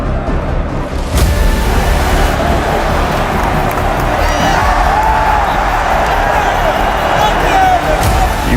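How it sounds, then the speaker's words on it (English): Football stadium crowd at an LAFC home match roaring steadily throughout, a dense sustained wall of cheering and hubbub with a commentator's voice over it. "You could just feel the urgency in the crowd rising"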